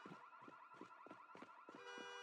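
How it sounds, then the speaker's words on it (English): Vehicle alarm blaring in the video game Project Zomboid, a loud repeating whooping pattern of about seven evenly spaced pulses over a steady droning tone, heard alone with no talk. "No vehicle alarm, please."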